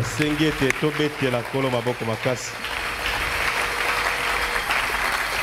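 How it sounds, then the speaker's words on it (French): A church congregation applauds loudly during a sermon, a dense rain-like roar of clapping rising after a voice speaks over the start, then filling the room on its own. "Je demande si nous pouvons encore acclamer très fort"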